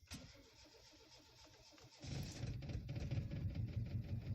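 A car engine started with the key during a beginner driving lesson: the starter cranks rhythmically for about two seconds, then the engine catches and settles into a steady, close idle rumble, with no talking over it.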